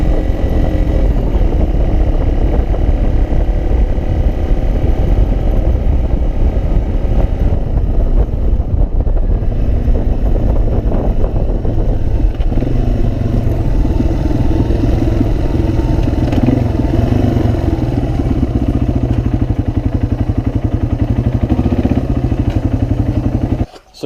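An old motorcycle running old carburetors and 27-year-old gas labours slowly up a steep grade at about 25 mph in third gear. The engine drones loud and continuous, with rough wind buffeting throughout.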